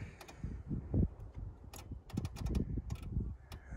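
Rapid clicking from a Cadillac during a jump start attempt, a quick run of sharp ticks spread through the clip amid low rumbling background noise.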